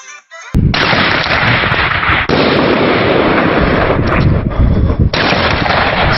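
Home-set New Year's Eve fireworks go off in very loud, close bursts of rapid crackling blasts, dense and continuous with brief breaks between volleys.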